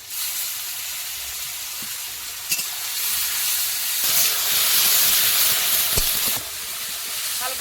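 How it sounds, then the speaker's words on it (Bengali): Chopped onion, green chili and ginger-garlic paste hitting hot oil with whole garam masala for a chicken curry, a loud, bright, steady sizzle and steam hiss that swells midway, with a few sharp utensil clicks. "এবারে দেবো পেঁয়াজ কুচি কাঁচা লঙ্কা আদা রসুন বাটা"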